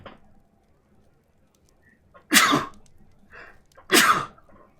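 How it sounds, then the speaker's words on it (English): Two sharp, close sneezes, spaced about a second and a half apart, each a loud burst with a short breathy lead-in, during play of Sherlock Holmes: The Devil's Daughter. "Sneeze time."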